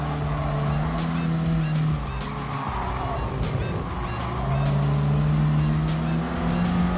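A race car in Gran Turismo Sport slides into a downhill corner under braking: a steady, loud engine drone with faint tire squeal, the pitch dipping briefly midway before climbing again.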